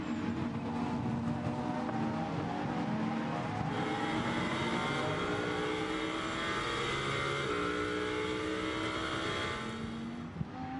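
Lamborghini Super Trofeo race cars on the Nürburgring, running downhill into a right-hand turn: several engines roar loud and steady, with pitch shifting as the cars change gear and pass close by.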